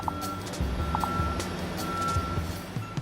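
A truck's reversing warning sounds as a series of evenly spaced electronic beeps over a low engine rumble, moderately faint and heard at a distance.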